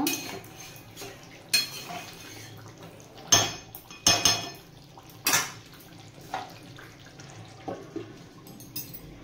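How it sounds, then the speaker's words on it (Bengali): A lid is lifted and mutton is stirred in a cooking pot for Mutton Dakbungalow, with metal clanks and scrapes from the lid and spoon arriving in irregular bursts over a quiet, low kitchen background. "আবারও ঢাকাটা খুলে দেখে নেব, একটু নাড়িয়ে নেব মটনটা সেদ্ধ হয়েছে কিনা দেখে নেব।"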